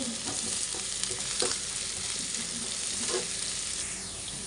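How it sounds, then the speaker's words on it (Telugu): Curry leaves fry in a pan with onions, a loud continuous sizzle close up, with a few stirring scrapes breaking through the hiss. "కొంచెం కరివేపాకు అయితే వేసుకుని ఫ్రై చేసేస్తున్నాను"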